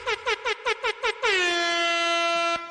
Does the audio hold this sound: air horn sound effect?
yes